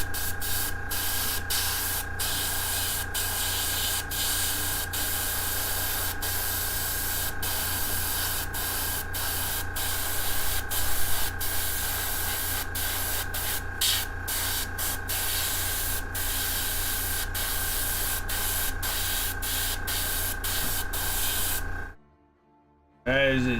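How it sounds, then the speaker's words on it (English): An airbrush sprays rose gold paint onto a Necron Skorpekh Lord miniature in a steady, close hiss. Faint clicks of the trigger run through it, and the spray cuts out abruptly just before the end. "When you airbrush this thing, it looks like you did rose gold on this."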